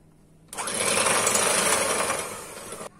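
An electric mixer whips cream for a semolina biscuit dessert, a loud steady high-pitched whir that starts abruptly, runs for over two seconds and cuts off.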